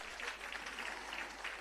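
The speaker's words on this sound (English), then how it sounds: "Give them a round of applause for me" Steady audience applause fills an awards ceremony for long-serving Jamaican civil servants, a dense even clatter of many hands heard from within the hall.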